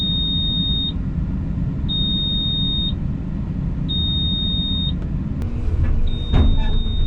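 Warning beeps from a small payloader sound after a cab button is pressed: sustained high tones, each about a second long, repeat at steady two-second intervals over a constant engine rumble, with some clunks near the end.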